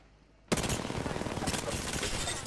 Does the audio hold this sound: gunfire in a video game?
yes